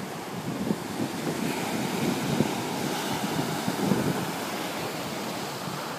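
Atlantic beach surf with a steady rush of waves and gusting wind buffeting the microphone, constant and moderately loud with no speech.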